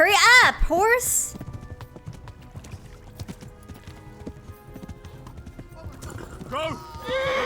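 In Kingdom Come: Deliverance, a game horse whinnies loudly twice at the start and again near the end, while hoofbeats clip-clop steadily in between at moderate volume.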